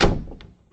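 A bedroom door shuts with a single loud thunk at the start, then a brief faint knock follows and the sound dies away quickly.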